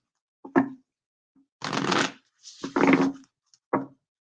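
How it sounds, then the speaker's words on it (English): Tarot cards being shuffled by hand, several short riffling bursts separated by pauses, close and clear against silence. "just a couple more shuffles here"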